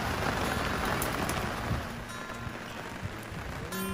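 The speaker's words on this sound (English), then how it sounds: "Raining today in Cuxhaven." Steady rain patters on a hard surface in Cuxhaven, Germany, a dense, even hiss of drops close by that eases slightly partway through.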